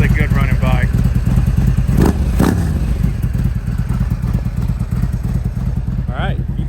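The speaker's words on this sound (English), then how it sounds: "Really good running bike." A 2017 Harley-Davidson Road Glide Special idles nearby with a loud, lumpy throbbing beat and a couple of sharp thumps, while someone talks over the engine.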